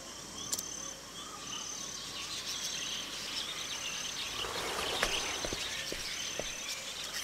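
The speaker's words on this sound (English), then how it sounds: "The isle birds are calling." Isle birds call through a night scene in Octopath Traveler II, with high chirping trills over a constant insect-like drone and a few faint clicks, fairly quiet and without speech.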